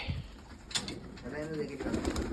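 Pigeons coo softly in a low, rolling murmur amid light background noise, with a few brief rustles and flutters.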